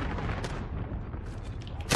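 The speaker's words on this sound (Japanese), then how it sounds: "巡航ミサイルを発射した。" In Call of Duty Modern Warfare, a cruise missile strike lands as a heavy rumbling blast that roars for two seconds, deep and loud, with a sharp burst at the end.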